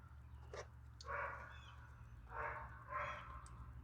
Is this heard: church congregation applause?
no